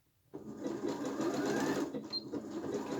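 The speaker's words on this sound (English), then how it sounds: "Take the pins out as we go. We are not sewing over them." Sewing machine stitching a seam on an upcycled t-shirt, starting abruptly and then running as a steady, close mechanical whir and rattle for the rest of the moment, with no talking.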